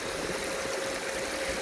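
Water flows steadily in a creek at French Gulch, California, a continuous close rushing and trickling wash with no voices.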